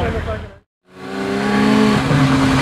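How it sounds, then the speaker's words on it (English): A Bugatti Veyron engine roars, cuts out for a split second, then revs back up loud and sustained, rising in pitch. "mounting a revving"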